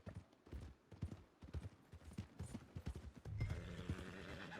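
Horse hooves clip-clop steadily on the ground in Red Dead Redemption 2, with a neigh rising near the end over the fairly quiet footfalls.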